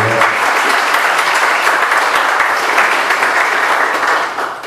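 A church congregation breaks into loud, continuous applause, a thick wash of clapping that runs evenly throughout and fades slightly near the end.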